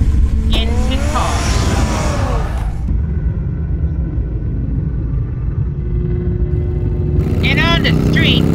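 Bruce Wayne's car in Batman: The Telltale Series gives a loud, steady engine rumble that runs throughout, with people talking at the start and end over the continuous drone.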